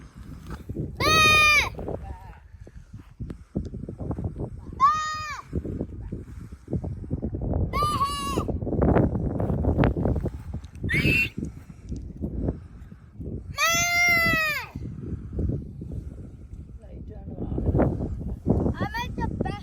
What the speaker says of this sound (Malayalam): താഴെ ആടുകളുണ്ട്.